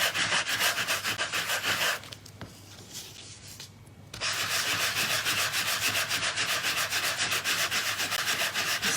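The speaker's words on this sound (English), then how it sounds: "It's a sanding block." A sanding block rubs steadily over embossed paper, a close, continuous dry scratching that drops briefly to a quieter, lighter scrape in the middle before resuming at full strength.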